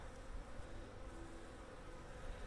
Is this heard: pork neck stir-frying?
no